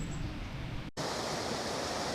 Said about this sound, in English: up Padley Gorge, you get these little waterfalls.